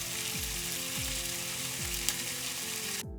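Homemade cured and smoked bacon fries in a frying pan, giving a steady, dense sizzle and crackle throughout with no talking, close and fairly even in loudness.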